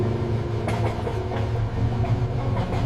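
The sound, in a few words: train running on rails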